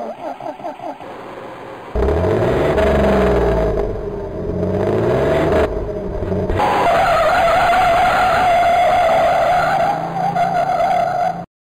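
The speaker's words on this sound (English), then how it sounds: "Why did the bus screech?" A bus engine roars and accelerates loudly, with tires screeching and skidding as the pitch rises and falls.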